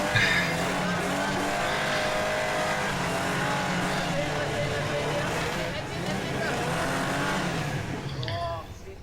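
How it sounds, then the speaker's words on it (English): Off-road 4x4 straining up a steep creek road, engine revving hard and rising and falling as the tyres spin and scrabble for grip, loud and continuous for several seconds, with voices calling out faintly over it. "Very close to getting up, but just not quite managing the traction."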